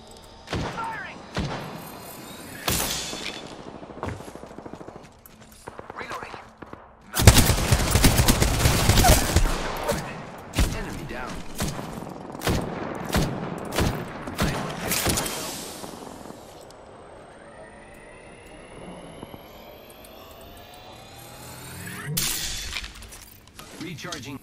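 Gunfire in the battle royale shooter Apex Legends: scattered single shots and then a loud sustained burst around seven to ten seconds, followed by sporadic cracks and impacts, with game voice lines and rising whines in between.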